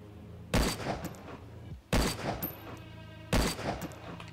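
Three loud, close gunshots from a rifle in a multiplayer shooter game, each followed by a short ringing tail, spaced roughly one and a half seconds apart.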